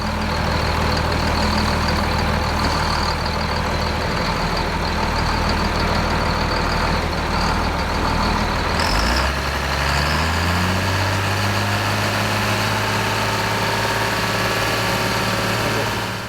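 A classic John Deere tractor engine runs hard on a dynamometer, giving a loud, steady, close drone that drops in pitch about halfway through and then settles into a lower, even note.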